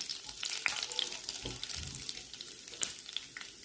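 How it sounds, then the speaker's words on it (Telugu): Cumin seeds sizzle and crackle in hot ghee in a pan, a quiet, steady frying hiss with a few stirring scrapes, heard alone. "ఇప్పుడు అందులో జీలకర్ర వేసుకొని కొంచెం వేయించుకోవాలి."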